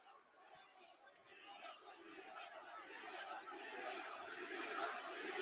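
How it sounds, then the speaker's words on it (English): Wrestling arena crowd at a WWE Raw show cheering and shouting, a broad wash of many voices that swells gradually louder, with a commentator talking over it. "We got people cheering."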